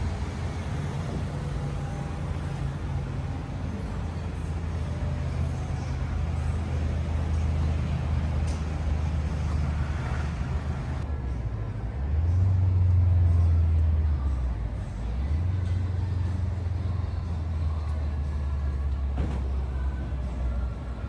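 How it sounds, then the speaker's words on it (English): A Buick Skylark car driving, heard from inside as a steady low engine drone and road rumble, with a brief swell in engine note partway through and faint background noise throughout. "we're driving the little Buick Skylark, the little ugly duckling, just to put it in storage"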